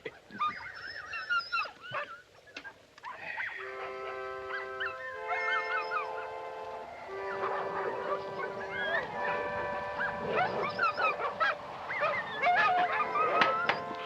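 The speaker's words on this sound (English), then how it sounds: "Dogs are noisy tonight." Dogs howling and barking in the night, with long wavering howls layered over one another, rising and falling for most of the stretch, moderately near, with occasional yelps and a low background of wind.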